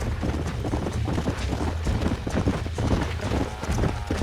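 Horse hooves clip-clop in the Red Dead Redemption video game, a brisk, steady rhythm of moderate loudness that continues with no pause.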